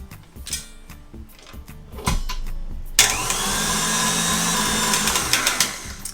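An electric mixer whisks Swiss meringue buttercream until the bowl cools. A few seconds of clattering and handling come first, then a loud, steady motor drone with a beater hum runs without a break.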